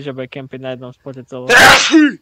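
A single loud, bursting sneeze breaks in right after steady conversational speech, with a short voiced tail trailing off at the end; people are talking just before it.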